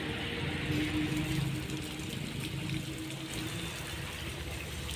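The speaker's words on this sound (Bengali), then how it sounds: "তো জবা গাছ জল টল দিতেছি বালা করে এইবার" Water is poured onto a potted hibiscus plant, a steady splashing and trickling rush that runs continuously and fairly close throughout.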